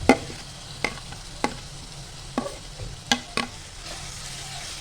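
Tomatoes sautéing in a pan for chicken kheema, a soft background sizzle punctuated by a handful of sharp spatula knocks and scrapes spaced about a second apart, close with no talking.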